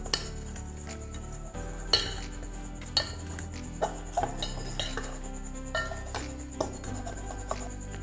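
A spoon stirs snack batter seasoned with salt in a bowl, giving repeated clinks and scrapes against the side at an uneven pace, close and moderately loud with no talking.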